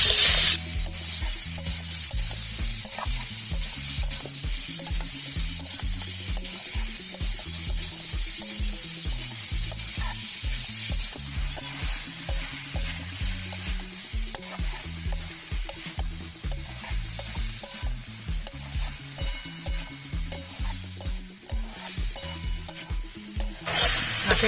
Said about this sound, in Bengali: আপেলটা আমি 7 থেকে 8 মিনিট নাড়াচাড়া করে নিচ্ছি